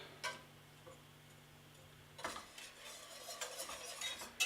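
Butter being whisked into a pan sauce, a light scraping and clinking of a whisk against the pan in irregular bursts over a soft sizzle and steady low hum, fairly quiet and close.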